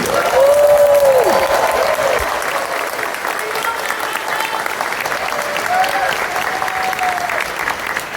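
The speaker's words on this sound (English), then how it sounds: "big round of applause for Russet, please" Audience applause at the ConFuzzled 2024 furry convention opening ceremony, a loud, sustained wash of clapping from a large crowd lasting the whole stretch, with a brief tonal whistle or cheer rising over it near the start.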